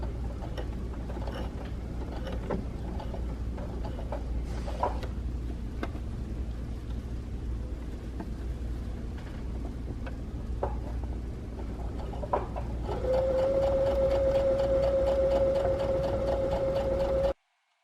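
A sewing machine stitches scrunchie fabric with print sides matched together, starting as light mechanical clicks and then settling into a steady, continuous whirring run near the end.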